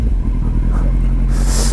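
A BMW 90 motorcycle engine runs during repair in a home mechanic's workshop in Argenteuil, a loud, steady, close rumble that holds throughout, with a brief hiss near the end.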